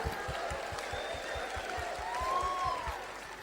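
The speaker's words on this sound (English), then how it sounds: "Come on, guys, clap with me." A church audience claps along in a steady rhythmic beat, evenly spaced claps at a moderate tempo, fairly faint and distant under a sustained musical drone with a held tone rising and falling.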